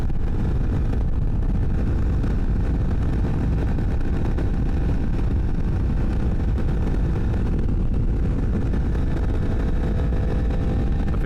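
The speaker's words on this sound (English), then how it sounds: "This bike is louder, so this would be a good test because the exhaust is considerably louder." A loud, steady engine drone with deep rumbling exhaust throughout, continuous and close, with no talking.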